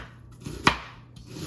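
A knife cuts a Scotch bonnet pepper for hot sauce, striking the cutting board twice in close, crisp, evenly spaced chops with no talk.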